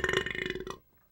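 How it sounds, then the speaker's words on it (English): A long, drawn-out burp from a cartoon character, loud and close, with a rapid rattling pulse that runs for most of a second and then cuts off. "I burp in the face of adversity."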